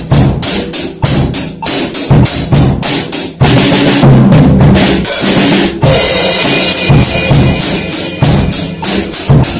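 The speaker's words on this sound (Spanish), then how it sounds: "repartimos las notas entre los tambores de la batería" A drum kit plays a rock rhythm exercise, three bars of groove and then a fill spread across the drums, with steady loud kick and snare hits and cymbals, close and alone without talk.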